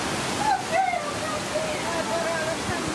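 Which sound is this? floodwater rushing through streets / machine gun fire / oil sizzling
floodwater rushing through streets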